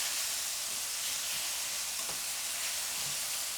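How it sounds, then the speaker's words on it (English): Onions sautéing in a hot pan for a paleo dish give a steady, soft sizzle and hiss that runs throughout without a break, with faint stirring scrapes and no talking. "I'm going to saute up these onions."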